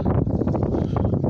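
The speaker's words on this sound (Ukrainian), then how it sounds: "перепрошую за вітер, такий вітер зірвався" Heavy wind buffeting a microphone outdoors, a steady low rumble with gusty surges throughout, loud and close.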